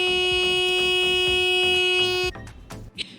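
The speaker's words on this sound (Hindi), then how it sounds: "Fire alarm using tubelight starter as sensor." A transistor fire alarm working model, using a tube light starter as its sensor, sounds a loud, steady electronic buzz with a pulsing rhythm for about two seconds before cutting off abruptly, followed by faint handling noise.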